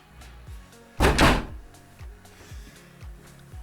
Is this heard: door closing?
yes